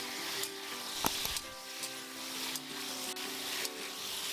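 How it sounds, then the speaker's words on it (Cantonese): Sauce stir-fries with the other ingredients in a wok for a braised chicken-wing and potato dish, giving a close, steady sizzle broken by sharp spatula taps and scrapes against the metal. "啲醬汁要喺個鑊入邊同所有嘅材料一齊炒多1分鐘左右"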